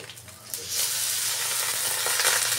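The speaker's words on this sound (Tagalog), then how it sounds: "Habang ginigisa natin ang ating sibuyas." Onions sizzle and fry in a hot pan for a Bikol Express dish, a steady close hiss that swells after the first half-second and holds bright and even throughout, with no talking.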